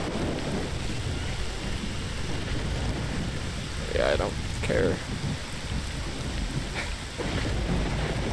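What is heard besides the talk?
rain and thunder in S.T.A.L.K.E.R. video game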